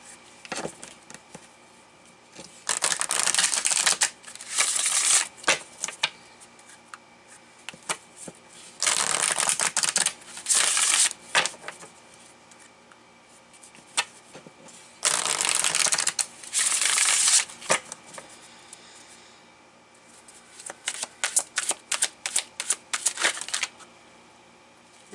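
Oracle cards shuffled in several bursts of crisp riffling and flapping, separated by short quiet gaps, close and fairly loud with no talk.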